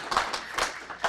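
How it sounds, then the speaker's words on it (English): A small audience claps briefly at a technology presentation, a short scattered round of applause heard moderately close for about a second. "Everyone give her a little round of applause."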